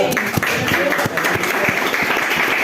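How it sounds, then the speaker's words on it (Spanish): Church congregation clapping in praise, a lively run of individual hand claps mixed into a steady wash of applause, with some voices faintly underneath. "Denle palmas a Dios, hermano"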